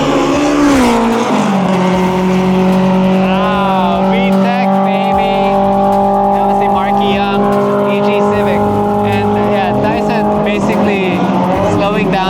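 A race car rounds a corner at Clark Speedway during an endurance race, its engine a loud, close, sustained drone whose pitch drops and then holds steady, with commentary talk running over it.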